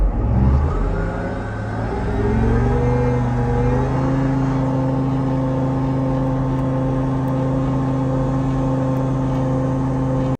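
A Chieftain tank engine revs up past 1,000 rpm, a loud, close diesel roar that climbs in pitch over the first few seconds and then holds as a steady, heavy drone.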